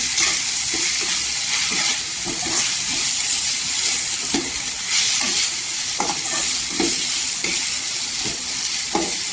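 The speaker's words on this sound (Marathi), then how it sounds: "इथे आहे ना मिक्स करून घ्यायचं।" Spice masala being stirred in a pan for Ghol fish curry, a steady scraping and stirring with a continuous sizzle-like hiss throughout, close and fairly loud, with no talking.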